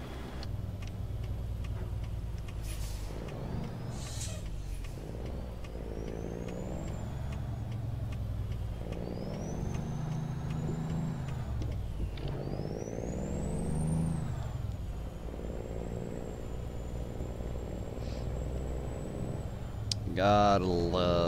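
Truck engine in a trucking video game using the SES sound mod, a low rumbling drone that rises and falls with acceleration, with occasional high whines and ticking, while someone talks over it.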